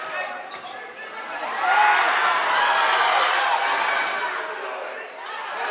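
An indoor high school varsity boys basketball crowd at a New Jersey state tournament game swells into a loud, sustained roar of protest over an uncalled reach-in foul, with sneaker squeaks and a voice talking over the din.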